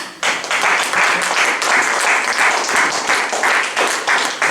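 A church congregation applauding during a sermon: steady, dense clapping from many hands that carries on throughout, loud and fairly close, with a few voices mixed in.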